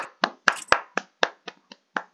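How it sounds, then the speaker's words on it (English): Hands clapping about nine times at an uneven pace, sharp close slaps with brief silences between them, heard alone with no voices. "Yo, what is that clapping sound effect? My hand."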